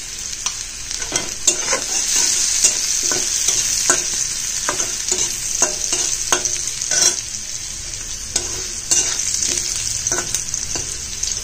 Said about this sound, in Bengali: এখন আমি ফোড়নে জিরে দিয়ে দিব।